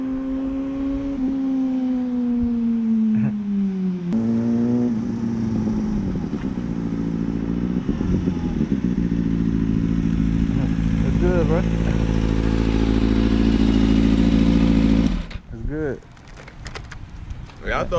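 A Kawasaki Ninja ZX6R 600 sport motorcycle engine rumbles up close during a group ride, its pitch sliding and rising with revs before dropping away sharply near the end.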